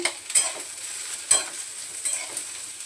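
Grated coconut with turmeric sautés in a pan: a faint, soft sizzle broken by three scraping stirs of a spatula, close and with no voices.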